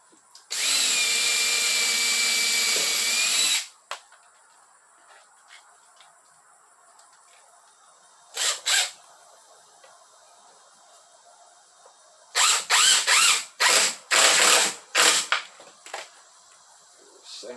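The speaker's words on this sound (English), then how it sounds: "Get a drill." A power drill driving a screw whirs steadily for a few seconds, then after a pause gives several short bursts and a quick series of revving pulses, close by.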